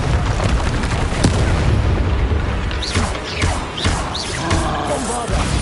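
A Confringo fire spell blast in the Hogwarts Legacy video game, one of several booming impacts and crashes amid chaotic combat, with sharp hits and swooshing whistles over a dense rumbling bed.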